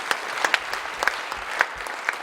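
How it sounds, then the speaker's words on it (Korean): A church congregation claps in thanks during a worship seminar, a brisk, steady patter of many hands in a large room, moderately loud, with a few sharper individual claps standing out from the crowd. "우리 모두 감사의 박수를 드리겠습니다."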